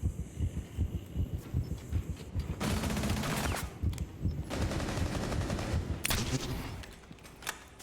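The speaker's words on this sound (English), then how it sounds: "You hear some gunfire." Bursts of rapid gunfire crackle over a low rhythmic thumping, with several sustained volleys and a sharp shot near the end, in a college esports match of Rainbow Six Siege.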